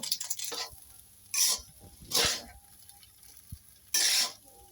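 Chicken noodles with tomato sauce being stirred in a pan: a few separate scraping, mixing bursts with quiet gaps between them and a faint sizzle underneath.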